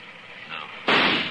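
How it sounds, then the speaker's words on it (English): A single sharp gunshot sound effect in an old-time Western radio drama, fired at a tree, cracks loudly after a brief quieter lead-in and rings out to the end. "I'm going to flip a shot at the tree, Chester."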